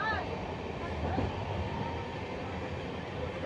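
An LHB-coach Sealdah–Ballia Express on the move, heard from inside a crowded carriage as a steady broadband rumble and rattle that stays loud and even throughout, with voices talking faintly in the background.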